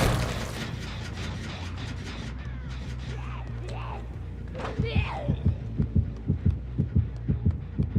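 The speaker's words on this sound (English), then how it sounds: "someone's heartbeat going nuts" The terror-radius heartbeat from Dead by Daylight throbs in low, regular thumps that grow louder and quicker toward the end, under game noise and a voice partway through.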